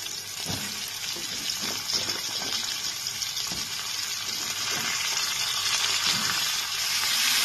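Pumpkin and green chillies fry in a pan with a steady close sizzle, punctuated by a few soft knocks of stirring.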